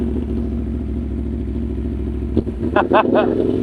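A motorcycle engine hums steadily up close, then rough revving and clattery bursts rise near the end as the bike moves off on a narrow strip.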